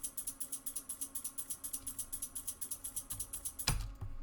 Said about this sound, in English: this here is just a little shake loop which I've made